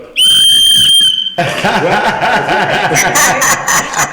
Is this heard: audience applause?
no